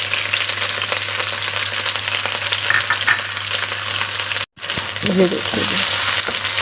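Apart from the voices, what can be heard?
chopped onions frying in a pot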